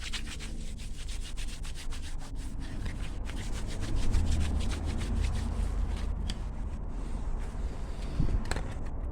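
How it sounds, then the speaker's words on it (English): Scratched plastic safety glasses are polished by hand, a continuous rhythmic rubbing and scrubbing close to the microphone, with rapid back-and-forth strokes that carry on for the whole stretch and no talk. "More polishing required."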